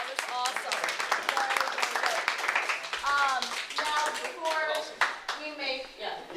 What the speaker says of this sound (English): First off, round of applause.